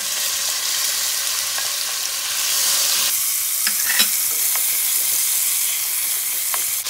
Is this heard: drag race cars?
no